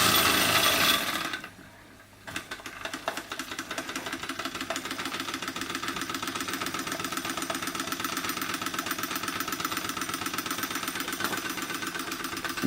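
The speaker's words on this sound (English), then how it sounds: "Love the load these Baker fans put on an engine." A model hit and miss engine runs under the load of a Baker fan, a steady rapid chugging and clattering drone that briefly drops out near the start, then continues close and loud with no speech.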